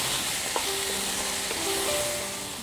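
Boiled potatoes and green peas sautéing in oil for a dry aloo mutter dish, a steady close hiss of frying with a few soft scraping stir sounds and faint tonal squeaks, no talking.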